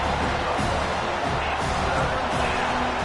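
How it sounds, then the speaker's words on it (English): Football stadium crowd at a Navy game, a dense, steady roar of many voices that holds at an even level throughout, loud and enveloping, with no single voice standing out. "This crowd bringing the energy and noise early"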